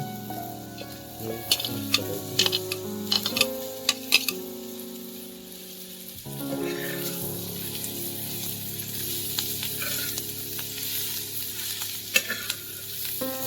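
Wild murmutha greens frying and being stirred in a pan with onion, a steady sizzle broken by repeated scraping strokes of a utensil, close and continuous.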